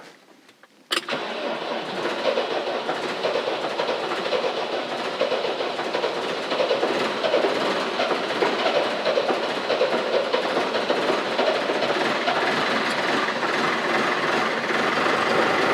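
An older tractor's cold diesel engine cranks briefly and then catches, settling into a loud, steady, rumbling idle that runs on without pause, with no one talking.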